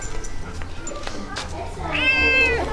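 A pet cat gives one drawn-out meow near the end, close and clear over low indoor background noise.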